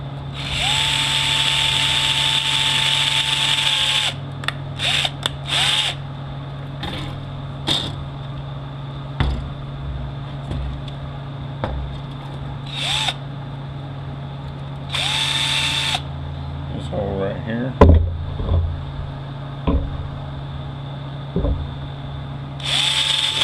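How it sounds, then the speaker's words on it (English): A close power drill whines in repeated bursts, drilling out a hole in a valve body with an 86-thousandths bit, stopping and starting with short pauses between, over a constant low mechanical hum. "Drill out this hole right here."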